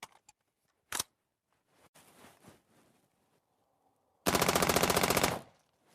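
An M16 rifle fires a loud, close burst of rapid automatic shots lasting about a second, after a single sharp report and some handling clatter, with no talk.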